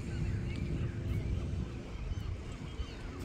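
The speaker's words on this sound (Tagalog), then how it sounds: "Daming ibon guys, oh." Many birds call together from a rocky breakwater at the edge of the open ocean, their honking cries faint and blended into a steady rumble of wind and water.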